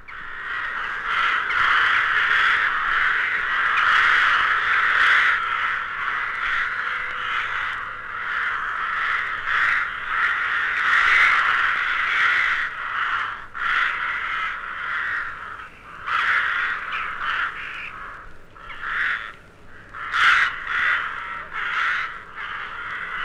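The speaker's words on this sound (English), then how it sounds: "the rooks and jackdaws stream out from their roost in long, noisy lines" Rooks and jackdaws calling in a steady, noisy chorus of overlapping caws as the flock streams out from its winter roost in the British countryside on a cold December morning, loud and continuous with many birds at mixed distances.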